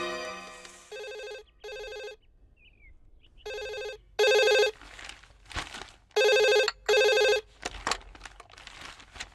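A phone ringtone plays in evenly spaced repeating bursts, clear and close against a quiet background, with a few soft knocks between rings.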